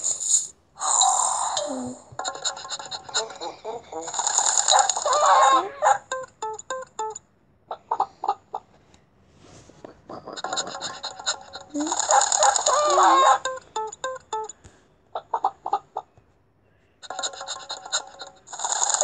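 A chicken and a rooster heard through repeated bursts of clucking and crowing, with bright calls coming in separate waves and short pauses between them. No one speaks.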